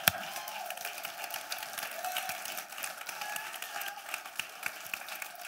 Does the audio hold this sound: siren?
no